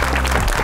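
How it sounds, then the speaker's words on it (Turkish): Studio audience applause on a talk show, a brief dense burst of clapping from the crowd. "Büyük bir alkış istiyoruz."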